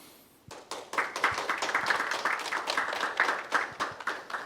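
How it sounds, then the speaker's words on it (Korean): Audience applause welcoming a lecturer at a Gwangju Green New Deal forum seminar: dense clapping from a sizeable crowd starts abruptly and continues steadily, loud and close, with no talk over it. "박용남 소장님 큰 박수로 모셔서 강연 듣도록 하겠습니다."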